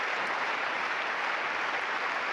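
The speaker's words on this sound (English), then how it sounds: "the rhythmical clapping of the crowd as they wait for the image" Wimbledon tennis crowd filling the stands with dense, steady applause while awaiting a challenge replay on the big screens, a continuous roar of many hands with no clear individual beat.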